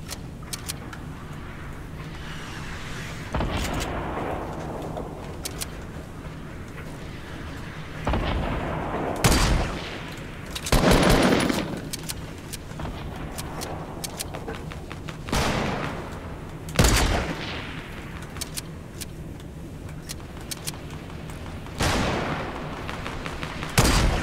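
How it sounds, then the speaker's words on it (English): Gunfire in a Fortnite match: scattered shots and sharp bursts ring out at irregular intervals over steady in-game ambience, some loud and near, others fainter and farther off. "Pretty sure he's being shot at by somebody else."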